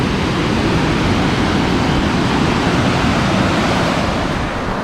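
Ocean waves break steadily at Nagtabon surf beach near Puerto Princesa in the Philippines, a loud, continuous broadband wash of surf with no voices over it.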